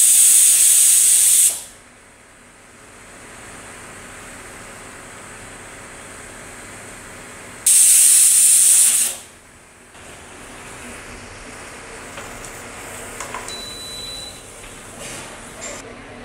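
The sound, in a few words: pressure cooker cooking lentils, steam hissing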